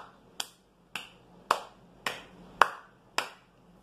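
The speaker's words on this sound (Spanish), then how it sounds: "Vamos a aplaudir." Hands clapping to a rhythm in a children's song and cup-rhythm activity: six sharp, evenly spaced claps about half a second apart, close and crisp, each standing alone with silence between.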